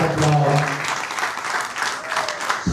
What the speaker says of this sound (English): please join Mr. McCabe and take a round of applause.